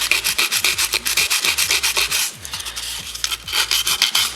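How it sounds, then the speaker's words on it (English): Sandpaper scrubbing rust and corrosion off the chassis of a 1956 Gibson GA-5 vintage guitar amp, a close, loud rasping in quick back-and-forth strokes, regular at first and then briefly softer before resuming. "take a little bit of sandpaper and just sort of get all the rust and corrosion off"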